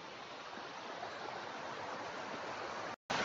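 A high waterfall in Mandangad, Maharashtra, pouring down in a constant, loud, broadband roar of falling water, unbroken apart from a brief dropout near the end.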